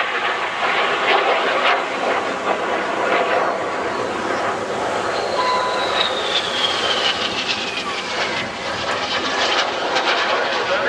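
RAF Red Arrows jets roar through an air display at the Bournemouth Air Festival, a loud, steady broadband engine rush with a high whine sliding down in pitch as an aircraft passes.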